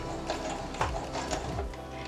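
A sewing machine stitching a cloth face mask runs in a steady whirring, clattering rhythm, close and fairly quiet, with two brief louder knocks as the stitching is back tacked near a corner.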